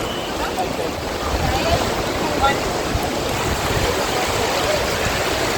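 Sea water at Morjim beach in Goa, India, a steady broadband wash of surf and lapping water close by, with wind rushing over it and no clear voices.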